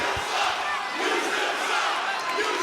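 A large wrestling arena crowd in New Orleans chants and roars continuously. The sound is loud and dense, with many voices merging into a broad, sustained wash.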